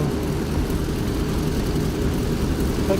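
Steady, droning propeller-aircraft engine noise from the DCS flight simulator game, a continuous low rumble with even loudness throughout and no talking.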